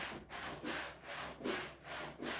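A surface is scraped during cleaning in rhythmic back-and-forth strokes, about six rasping passes with brief pauses between them, close and fairly loud with no voices.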